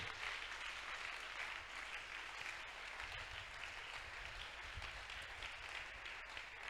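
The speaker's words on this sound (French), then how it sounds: "On acclame pour le Seigneur." A congregation applauds during a youth closing service in church, with sustained, fairly faint clapping from many hands that carries on evenly from start to finish.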